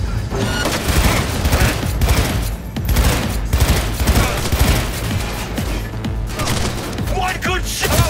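Gunfire in the video game Cyberpunk 2077: dense, loud, rapid shot bursts rattle almost without pause, one firefight layered over a heavy low rumble.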